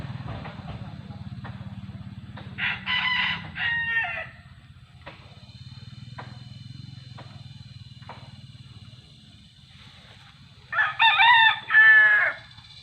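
A rooster crows loudly twice, once early and again near the end, over a steady low rumble with faint scattered clucks from chickens in between.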